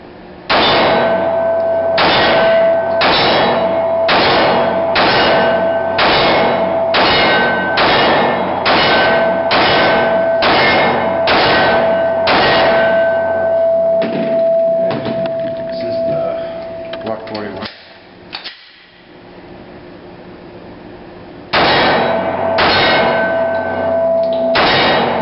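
A Gen 3 Glock 21 pistol fires Winchester white ball ammunition outdoors: about a dozen sharp, evenly spaced shots in rapid succession, a quieter pause, then another burst of shots, with voices around them.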